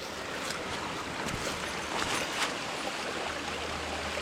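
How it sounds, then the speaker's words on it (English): A small stream flows along a hiking trail between Harpers Ferry and Ashby Gap, a steady broadband rush of running water with a faint low rumble, moderately distant and continuous, with no one talking. "It sounded like a really good stream."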